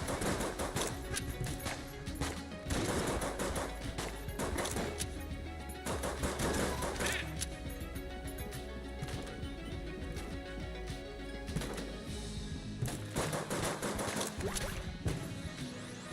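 Steady gunfire from a gun in an Xbox Game Pass video game, dense repeated shots and crashing impacts running continuously, moderately loud, with little talking.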